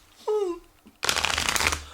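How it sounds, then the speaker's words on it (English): Marvel United game cards are riffle-shuffled in one quick, crisp flurry of rapid flicking that ends with a short settle, heard close up after a brief vocal sound. "So let's see how well they shuffle."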